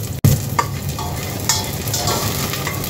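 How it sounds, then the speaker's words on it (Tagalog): Garlic and onions frying in a pan until golden brown, a steady close sizzle with a few stirring scrapes and one sharp knock near the start. "Antayin lang natin yan mga ka-TJ friend na mag-golden brown ang ating bawang at sibuyas"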